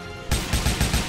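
A burst of automatic gunfire in Gears of War starts suddenly after a quiet moment, with rapid, evenly paced shots hammering loud and close for about a second, no voices.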